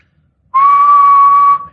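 A single steady whistled note, clear and loud, held for about a second before cutting off.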